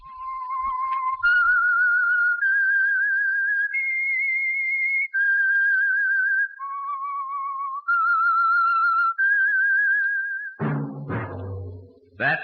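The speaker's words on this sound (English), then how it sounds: "That whistle is your signal for the Signal Oil Program, The Whistler." The eerie whistled signature tune of The Whistler, a 1947 radio drama, plays as a solo line of clean sustained notes rising and falling, then a brief orchestral burst crashes in at the end.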